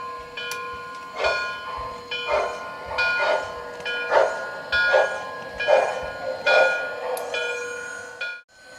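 An MTH Railking New York Central L-3 Mohawk model steam locomotive with Proto Sound 2.0 runs with a steady rhythmic chuff, about one beat per second, clear and alone before stopping abruptly.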